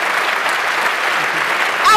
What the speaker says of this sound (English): Oh, come on, people, that can go louder.